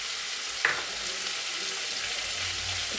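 Food fries in mustard oil in a pan for a Bengali dish, a soft steady hiss of sizzling with one brief clack of a utensil near the start, no talking.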